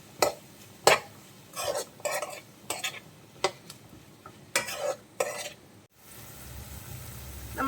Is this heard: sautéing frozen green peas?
yes